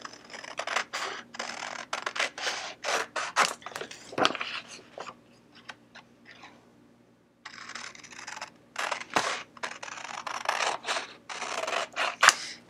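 Scissors snip around a freezer-paper circle for English paper piecing, making quick, close, dry crisp cuts in an irregular run, a brief pause, then another flurry of snips.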